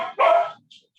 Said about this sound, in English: who's barking? It's not my dog, she's outside.